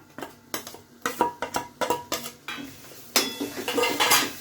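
Ground masala paste goes into a pan of fried onions for a spicy prawn curry, with a string of sharp metallic clinks and scrapes of a spoon against the pan, closely miked with no talking.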